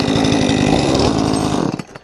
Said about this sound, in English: There is a time in a man's life when he manages to fix a chainsaw from totally bust.